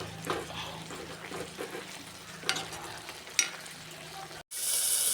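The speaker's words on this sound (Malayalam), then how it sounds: "നമുക്ക് ഒരിക്കൽ കൂടി ഇളക്കി കൊടുക്കാം." Avial, a vegetable and coconut curry, being stirred in a cooking pot: soft scraping and wet stirring with a few sharper clinks of the spoon against the pot, then a brief cut and a steady hiss at the end.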